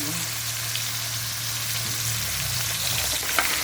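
Vegetable ingredients hitting a hot frying pan while cooking a vegetable dish, a dense steady sizzle and crackle close by, with a low hum underneath and stirring scrapes toward the end.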